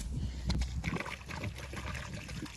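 Water sloshes and trickles inside a garden sprayer container as it is rinsed out, a close, continuous liquid swishing and splashing with no talk.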